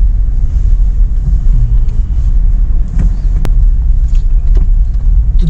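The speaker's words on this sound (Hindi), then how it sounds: "जैसे मैं एक्सलेट कर रहा हूँ तो गाड़ी भाई दौड़ रही है" A Toyota Fortuner SUV accelerating on the road, heard from inside as a steady loud engine rumble with road and wind noise, no talk over it.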